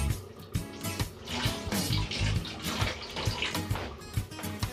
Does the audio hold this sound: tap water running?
yes